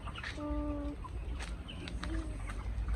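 Chickens cluck and squawk nearby in short bursts, with soft background noise and faint voices mixed in.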